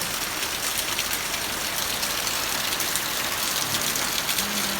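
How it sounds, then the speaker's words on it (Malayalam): Heavy rain pours down steadily in a dense, even hiss that fills the whole stretch, close and loud, with a faint low hum running beneath it. "നല്ല മഴ പെയ്യുന്നുണ്ട്. നല്ല പെരും മഴ കേട്ടോ."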